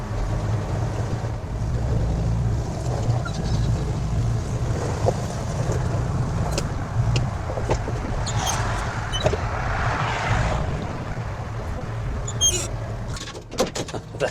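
Old GMC truck being pushed out of soft soil by another vehicle called Old Red, steady low engine rumble with scattered clunks and knocks over the middle and end.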